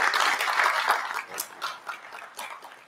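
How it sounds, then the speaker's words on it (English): A panel discussion audience applauds at the close of a talk on reporting the 2024 election. Loud clapping at first thins out and fades over a few seconds. "could everybody join me in a round of applause?"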